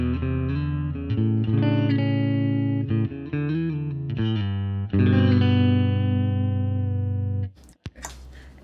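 Clean electric guitar notes and sustained chords played dry through a Fender Super Reverb amplifier, ringing steadily for several seconds before cutting off abruptly near the end.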